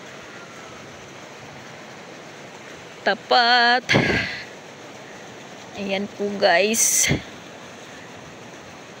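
Rushing river water after rain, swollen and uncrossable, makes a steady broad wash of noise throughout, while a person talks briefly and other short sounds break in over it.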